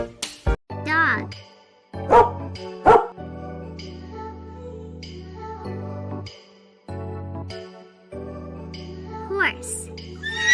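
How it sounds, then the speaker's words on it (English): A domestic dog barks in a children's animal-sounds lesson, several sharp close barks spread across the clip, mixed with music-like tones and a little background noise. "Dog."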